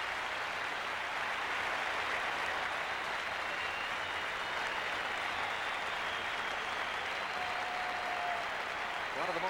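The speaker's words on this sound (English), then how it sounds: "He's getting a standing ovation." A stadium crowd at a 1981 Washington Redskins vs St. Louis Cardinals football game gives a standing ovation, sustained roaring applause heard from a distance and steady throughout, with a commentator talking over it.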